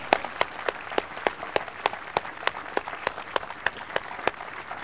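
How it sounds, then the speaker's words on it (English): Steady rhythmic clapping from a ceremony audience at a military change-of-command event, evenly spaced claps, moderately distant and fairly faint, with no talking. "can we please give them a round of applause?"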